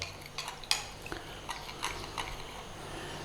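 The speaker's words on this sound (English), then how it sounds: "we're just going to give that a stir in." A spoon stirs cornstarch slurry into a Chinese sweet noodle sauce, giving several light clinks and scrapes against the pan spread over a few seconds, close and moderately quiet, with no talking.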